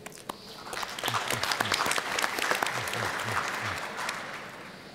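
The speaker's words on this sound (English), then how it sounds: "Minister Tunalom, another word of applause for you." An audience at the Forests Asia Summit 2014 applauds a minister during a green growth panel, a steady wash of many hands clapping that swells after a second and holds at a moderate level.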